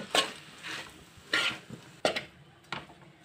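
Noodles are stirred with Badshah masala and garam masala in a pan, with four soft scraping strokes of a utensil against cookware, faint and spaced apart.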